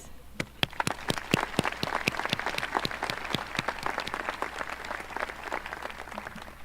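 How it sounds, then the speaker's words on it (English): Applause at a high school graduation ceremony, a round of individual claps standing out sharply above a steady wash of crowd clapping, fairly close and sustained throughout. "Let's all give ourselves a big round of applause for making it to the end."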